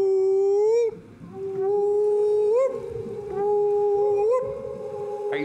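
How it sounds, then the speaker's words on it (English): Whale song rising and falling in long, tonal moaning calls with upward sweeps, loud and close, three or four extended phrases separated by short pauses. "their whale song carried far, far across the huge ocean"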